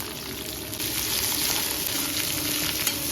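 Shallots sizzle steadily as they fry for a banana flower stir-fry, a dense, continuous crackle of hot oil that stays loud and close from start to finish with no voices.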